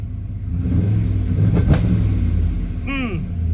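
A car engine held on a stuck 2-step launch control bangs and stutters in a rapid, rough revving rumble, loud and close, with a brief voice near the end.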